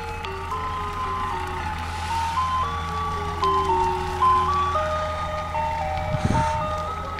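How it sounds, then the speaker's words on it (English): An ice cream truck plays its tinkling jingle melody continuously at moderate distance, over a low engine hum, with a brief burst of noise near the end. "after hearing the ice cream truck for a little bit"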